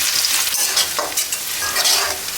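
Thinly sliced onions fry in hot oil to make crisp beresta for beef tehari, a loud close crackling sizzle with bubbling bursts and a brief stir, no voices.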